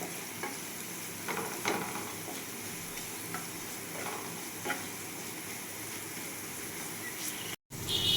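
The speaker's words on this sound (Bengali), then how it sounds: "আপনাদেরকে কিন্তু গ্যাসের আঁচটা মিডিয়াম টু লোয়ে রেখে এগুলো ভেজে নিতে হবে" Vegetables for semolina pulao fry over a medium-low gas flame, a soft, even sizzle with occasional light stirring taps, close but fairly quiet, with a brief dropout near the end.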